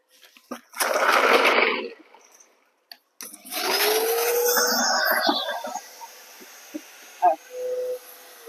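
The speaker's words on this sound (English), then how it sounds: "vacuum spiders." A vacuum cleaner sucks up spiders in a garage: two close, loud bursts of rushing motor noise, the second with a rising whine as it spins up, then quieter shuffling and brief knocks.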